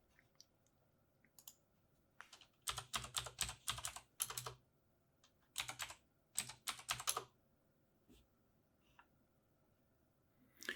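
Numbers are typed on a computer keyboard in quiet bursts of rapid clicking keystrokes, separated by pauses and a few isolated single taps.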